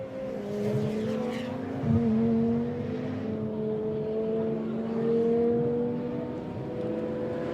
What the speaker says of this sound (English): Over the line goes the KTM now.